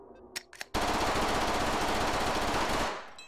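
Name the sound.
gun emptying a magazine in VR game Hot Dogs, Horseshoes & Hand Grenades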